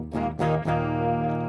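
Eastwood Airline '59 3P DLX electric guitar with single-coil pickups, played through a Helix distortion patch: three quick distorted strums, then a sustained, buzzing chord that rings out, close and clear.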